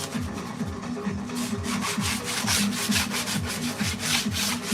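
Rhythmic back-and-forth scraping as hardened Bondo filler is sanded off a wooden board, a steady run of close, strong strokes.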